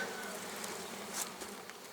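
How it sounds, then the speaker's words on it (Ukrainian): A bee buzzes steadily close by, a continuous droning hum with slight wavering in pitch, heard on its own. "Бджола"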